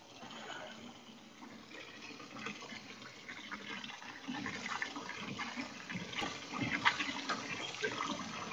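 Freshly made ramen noodles are rinsed under running water in a kitchen for chicken paitan ramen. Steady splashing and pouring continue throughout at moderate volume, growing slightly busier toward the end, with no talking.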